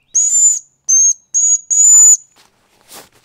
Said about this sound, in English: Ah, a whistle.